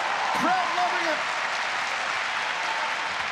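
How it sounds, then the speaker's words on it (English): Spectators at a ONE Championship MMA fight applaud steadily, a moderate wash of clapping under a commentator's voice. "Crowd loving it."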